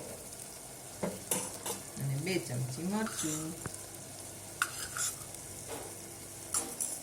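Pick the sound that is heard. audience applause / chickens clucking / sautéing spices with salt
sautéing spices with salt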